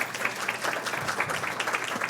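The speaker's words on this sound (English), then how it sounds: "Let's give another round of applause to our presenter." An audience at an expert panel event in San Diego applauds a presenter, with dense, even clapping that stays moderately loud and steady for about two seconds, no voices over it.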